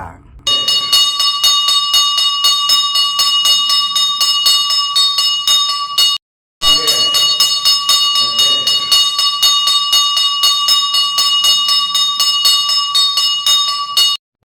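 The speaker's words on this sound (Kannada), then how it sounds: "ಗಂಟಾನಾದ ಮೂಲಕ ಸ್ವಾಗತ ಸುಸ್ವಾಗತ" A temple bell rings rapidly and continuously, loud and close, in two long bursts separated by a brief pause, during a Pavitrotsava festival.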